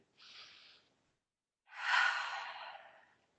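Soft breathing during a vinyasa yoga practice, with a short gentle inhale followed after a pause by a longer, stronger exhale, close and otherwise silent.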